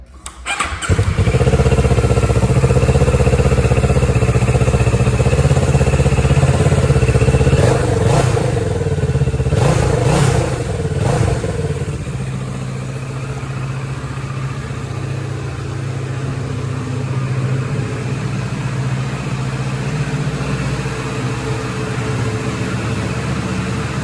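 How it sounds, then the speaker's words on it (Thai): A Kawasaki Z650 motorcycle with a stock exhaust, registered 2019 and built 2016, starts up and idles close by, a steady low rumble with a few blips of the throttle before settling. "ฟังเสียงท่อกันหน่อยเนาะ ท่อเดิมนะครับ"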